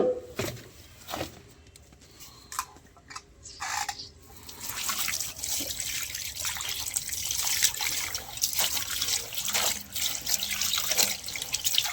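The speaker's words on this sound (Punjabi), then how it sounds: "ਹੁਣ ਆਪਾਂ ਇਹਨੂੰ ਤਿੰਨ ਚਾਰ ਪਾਣੀਆਂ ਚ ਕੱਢ ਲਾਂਗੇ ਸਾਫ਼ ਪਾਣੀ" Water splashes and sloshes as a shawl is rinsed in a basin of clean water, a quiet stretch then steady swishing and dripping close by.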